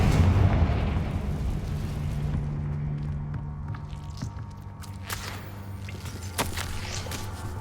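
A Confringo fire spell blast in the wizarding game Hogwarts Legacy: a loud, rumbling burst at the start that rolls and fades into softer crackles and scattered pops.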